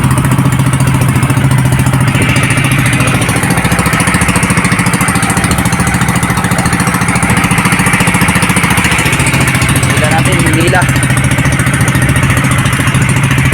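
A squid-fishing boat's engine drones steadily and loudly without pause, a low rumbling hum that runs evenly throughout, with no voices.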